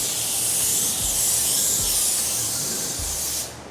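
A spray gun lays metallic car paint on a restored Ram truck, giving a loud, steady hiss that runs almost unbroken for a few seconds, with brief low thumps beneath, before tailing off at the end.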